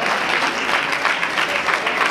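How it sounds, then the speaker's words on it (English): A warm, steady round of applause from an audience at a Black Male Summit honoring committee members, many hands clapping together in a continuous wash, fairly close and sustained. "I'd like to give them a big round of applause."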